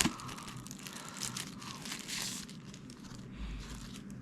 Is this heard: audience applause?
no